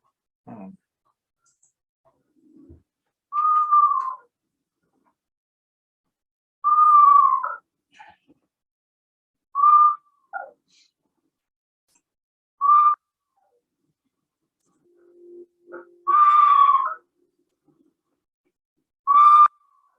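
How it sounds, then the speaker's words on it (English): A series of descending, wavering whistled owl whinny calls, horse-like, about six separate notes spaced a few seconds apart, clear against silence. "So what they call that is the whinny. It kind of sounds like a horse."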